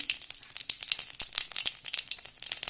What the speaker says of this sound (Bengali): তেলটা গরম হয়ে গেছে, দিয়ে দিচ্ছি গোটা জিরে